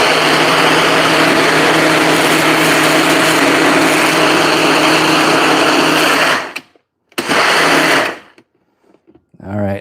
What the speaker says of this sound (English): now let's give that a blend.